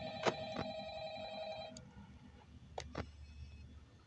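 In Five Nights at Freddy's, a telephone ring sounds as a sustained electronic tone for under two seconds, followed by a couple of short clicks, all fairly quiet over low background hum.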